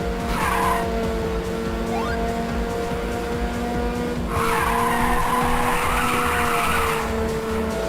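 Racing action from Ridge Racer on the PSP: a steady engine drone with repeated loud tire squeals and drifting skids throughout, no voices.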